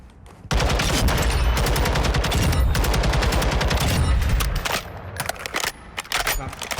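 Sustained rapid automatic gunfire in Call of Duty MW2 / Warzone 2, a loud continuous burst of close shots lasting several seconds, then breaking into shorter separate bursts.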